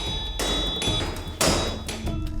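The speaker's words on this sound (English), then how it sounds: "One of the most challenging steps is hammering." Steel is hammered on an anvil while forging a sword: a few heavy, ringing strikes spaced about a second apart, close and loud, with no talking.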